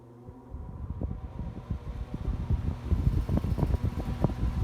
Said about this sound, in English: you can hear the fan moving